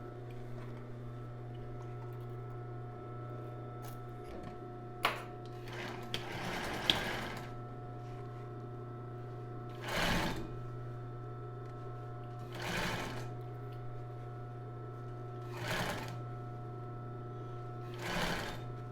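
Sewing machine stitching embroidered tulle for a bra, a steady motor whir running throughout with several short bursts of louder stitching spaced a few seconds apart, plus light handling clicks.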